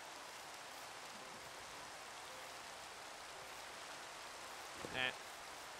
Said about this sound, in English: Ah, the rain is loud.